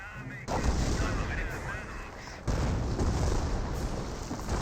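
An artillery barrage in the strategy game Company of Heroes, two heavy booming blasts a couple of seconds apart, each followed by a dense rumbling roll of explosions and debris.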